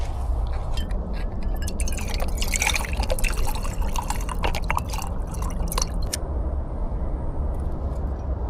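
Water trickles and drips into a dehydrated Louisiana red beans and rice meal pouch on a hiking trip, a steady liquid splashing with small dripping bursts over a low outdoor rumble, close and continuous.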